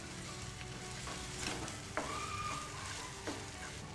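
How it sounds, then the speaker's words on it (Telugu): A spoonful of garlic paste frying in oil with a continuous, fairly quiet sizzle. A few scrapes of the spatula and a short squeak cut through the steady crackle, and there is no talking. "సో గార్లిక్ పేస్ట్ కూడా మంచిగా ఫ్రై అయిందండి."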